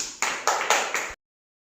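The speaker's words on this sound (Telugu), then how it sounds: "క్లాప్స్ కొట్టండి" About five quick, sharp claps sound close together in a classroom, then stop abruptly into silence.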